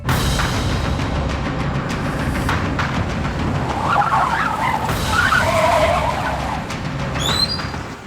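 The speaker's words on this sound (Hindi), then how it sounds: "अचानक से एक कार ने मेरी बाइक को ओवरटेक किया" A car overtakes a motorbike and skids, tires squealing loudly over a constant roar of engine and road noise, with a sharp screech rising toward the end and no talking.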